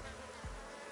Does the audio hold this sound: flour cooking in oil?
no